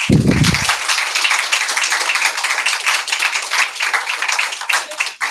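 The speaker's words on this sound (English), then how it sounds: "Let's give him another round of applause." Audience applause follows a talk on lampreys, a fairly loud, dense patter of many hands clapping that continues for about five seconds, with a brief low thump at the very start.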